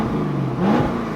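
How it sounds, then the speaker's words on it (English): A Chevrolet Corvette with 120,000 miles revs its engine, a steady idle rising into a short, loud rev that climbs then eases back, heard close up with no talk. "Let me rev up the engine."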